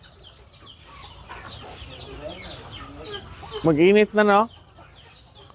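Rhode Island Red chickens cluck softly beneath a person talking, then two loud, close harmonic calls burst out near the end of the clip.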